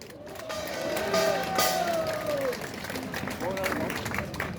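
A crowd at a Marine Corps rally applauds fallen marines of the Korean War, a sustained wash of clapping and cheering with voices and a held tone sounding over it.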